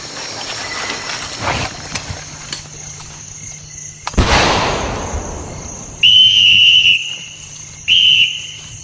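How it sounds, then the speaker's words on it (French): At a surprise wake-up in the French Foreign Legion, a practice plaster grenade bursts with a loud whoosh mid-clip, then two shrill whistle blasts ring out close by, each lasting about a second. "Donc je vais balancer une grenade à plâtre d'exercice. Et avec des coups de sifflet, active un peu l'affaire."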